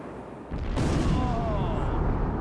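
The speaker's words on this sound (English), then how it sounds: "The explosion in a blast of this size is really several thousand small explosions, all happening over the course of several seconds." Explosive demolition of the Charlotte Convention Center: after a quiet moment, a sudden loud blast swells into a sustained, roaring rumble of many merged detonations that carries on to the end.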